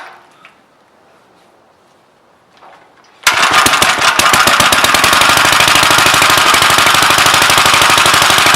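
A Gravely L tractor engine with a freshly timed Wico magneto bursts into life after a quiet pause, then runs at a loud, steady, rapid firing rhythm, close by and alone.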